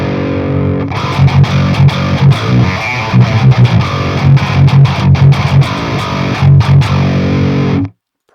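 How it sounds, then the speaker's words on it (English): A metal guitar riff played through a Fredhead amp sim with only the low EQ band isolated, giving a thick, heavy chug with pulsing palm-muted accents, loud and steady before cutting off abruptly. "Pretty meaty low end there."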